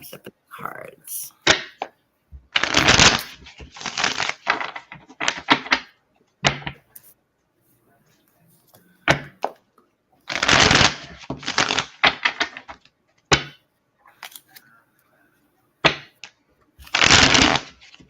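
Oracle cards shuffled in several separate bursts of crisp riffling and flapping, each lasting a second or two, with quiet gaps between them and some talking in the background.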